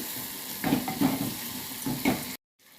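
Green turkey berries (sundakkai) sautéing in a pan, a steady close sizzle broken by several louder scraping stirs, then cutting off abruptly into near silence at the end.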